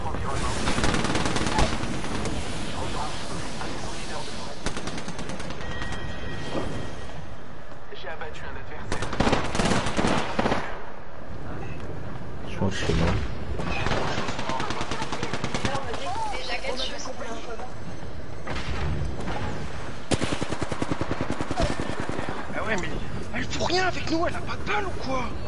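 Video game gunfire crackles in repeated bursts and rapid volleys of shots, loud and dense throughout, with voices talking over the shooting.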